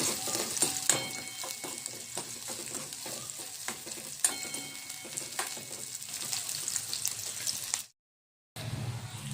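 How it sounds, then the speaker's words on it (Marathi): Chopped onion cooking in half a spoon of oil in a pan, a close sizzle with frequent spatula scrapes and taps, then a sudden brief silence near the end before the frying resumes. "हा कांदा आपल्याला थोडा शिजवून घ्यायचा आहे."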